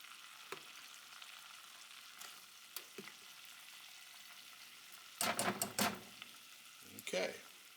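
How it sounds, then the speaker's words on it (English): A roux of a whole stick of butter and gluten-free flour sizzles softly in a pan, with a few scattered clicks and then short bursts of scraping as it is stirred, close and quiet. "now we're going to stir this around. We're making a roux"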